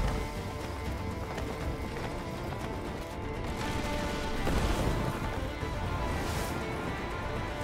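A horse gallops with rapid hoofbeats in a video game trailer, blended into a dense, loud mix of music and effects with a crash partway through.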